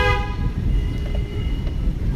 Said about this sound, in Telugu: హారన్ చేయండి.